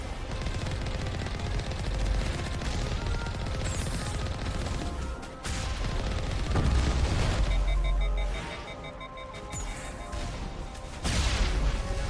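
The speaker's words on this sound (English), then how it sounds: "They have got rocket launchers defending them." Rocket launchers fire in the video game Mass Effect, with sustained loud explosive booms and gunfire-like blasts layered densely throughout, a short drop in intensity midway before the barrage resumes.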